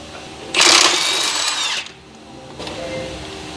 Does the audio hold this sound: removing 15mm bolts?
yes